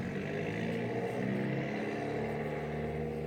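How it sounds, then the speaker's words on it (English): A very loud car passes close by on a street, its engine rumble swelling and roaring steadily before easing off slightly, heard alone without any talk. "there's a really loud car passing by."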